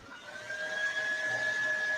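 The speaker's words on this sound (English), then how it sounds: "Just sounds like a vacuum or something." Vacuum-like background noise comes through a call as a faint, steady whirring hum with a thin tonal whine that holds evenly, with no speech.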